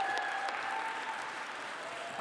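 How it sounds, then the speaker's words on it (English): An audience at a youth awards benefit applauds young people, giving a steady, full round of clapping that holds throughout with a faint tone running underneath. "Let's have a huge round of applause for these incredible young people and their innovative programs"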